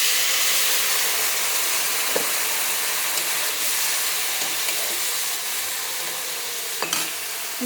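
Spices sizzle and fry in a pan with salt, turmeric, chilli powder and cumin powder. A loud, steady hiss runs throughout, broken by a few soft clinks of stirring, with no talking.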